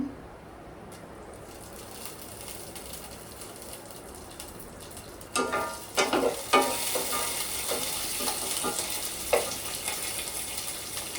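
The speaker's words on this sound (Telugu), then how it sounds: "తాలింపు వేగుతుందండి, కాస్త కరివేపాకు వేసుకుందాం" Curry leaves hit hot oil in a tempering, sending up a sudden loud crackling sizzle after a quiet stretch, then sputtering pops and stirring scrapes continue close by.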